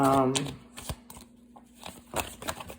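A deck of tarot cards is shuffled in quick riffling bursts and soft taps, fairly close. A voice talks over the start.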